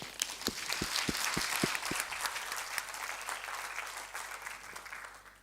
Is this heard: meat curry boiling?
no